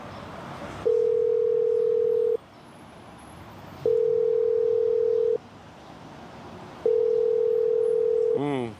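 Three long, steady telephone ringback tones sound at regular intervals while a call goes unanswered, each beep alone and clear above faint room noise, followed by a brief chirp at the end.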